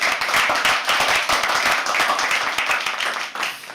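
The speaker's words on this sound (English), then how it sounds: "Can everyone else please clap for them?" A live poetry open mic audience breaks into dense, steady clapping that stays loud and close across the whole stretch before tapering slightly at the end.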